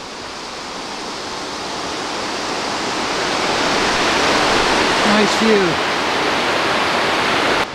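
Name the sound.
Brador Falls waterfall in Labrador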